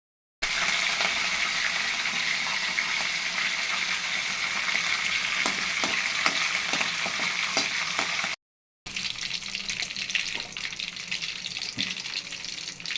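Mustard seeds and cumin tempering in hot oil for a Telugu onion chili paste, a continuous crackling sizzle with occasional sharp pops, close and fairly loud, briefly cut off partway before resuming.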